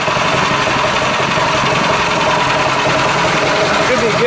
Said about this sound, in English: we'll give it some gas